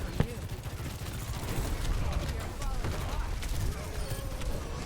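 Rapid bursts of gunfire from a first-person shooter match, aimed at a tank hero in Overwatch, dense and continuous over game music and effects, with talk over the top.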